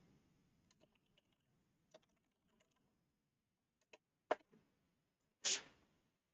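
Typing on a computer keyboard: quiet, scattered key taps with irregular pauses between them, ending in a couple of sharper, louder clacks, close and with no talking.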